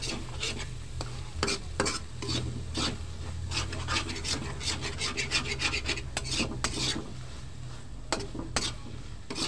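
Corned beef with eggs stirred in a pan, a spatula scraping and rasping in repeated strokes over a low steady sizzle, close and fairly loud with no talking.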